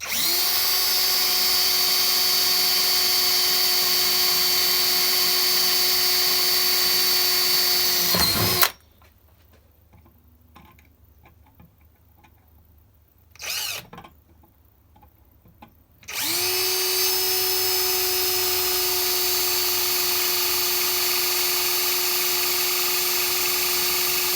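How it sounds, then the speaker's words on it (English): A power drill whines steadily at high speed drilling a pilot hole in metal on a 1980 Harley-Davidson Ironhead Sportster, stops for several seconds of near silence with a short burst, then runs again continuously. "it's always better to put a pilot hole first"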